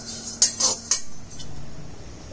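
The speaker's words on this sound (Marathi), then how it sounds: "साधारणपणे कढई थंड होईपर्यंत हलवत राहायचे" A spoon scraping and clinking against a kadhai while stirring roasting coriander and cumin, a few sharp metallic clinks early on, then quiet soft shuffling.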